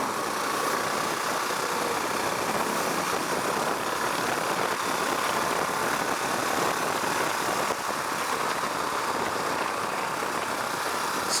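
A Husqvarna Vitpilen 701 single-cylinder motorcycle drones steadily while cruising at around 50 mph in fourth gear, heard as a continuous engine note buried under heavy wind rush.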